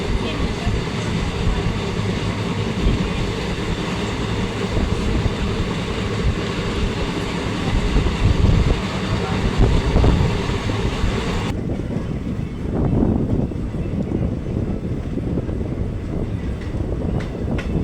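Upper Assam passenger train running between Silapathar and a small nearby station, a steady loud rumble of wheels and carriage noise throughout, dropping in brightness partway through.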